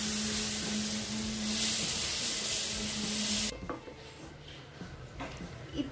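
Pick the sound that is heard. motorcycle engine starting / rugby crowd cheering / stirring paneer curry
stirring paneer curry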